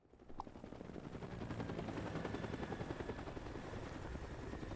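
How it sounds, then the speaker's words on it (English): Helicopter in the finale of the Resident Evil 5 video game, a steady loud rotor chop with a dense rhythmic beat that swells in after a brief opening and holds for several seconds with no talk. "So we end another Resident Evil in a helicopter."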